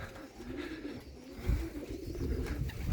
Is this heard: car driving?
no